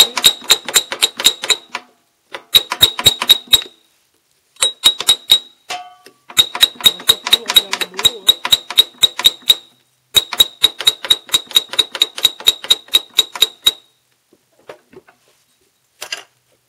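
A seized part on an articulated lawn tractor engine is tapped loose with rapid, sharp, metallic taps. They come in quick bursts of about a dozen, separated by short pauses, loud and close.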